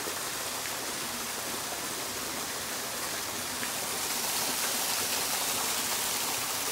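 A waterfall in a natural outdoor setting, heard as a dense, continuous hissing rush of falling water that is steady and fairly loud throughout, with no voices.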